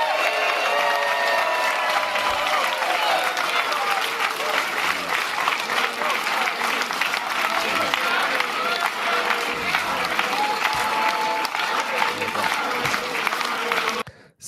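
A large crowd gathered for a Canadian federal election political speech claps and cheers in sustained loud applause that runs unbroken before cutting off abruptly.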